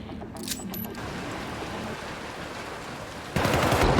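Gunfire in the Syndicate first-person shooter game, rapid bursts of automatic shots under a dense wash of game noise, growing louder and harsher near the end.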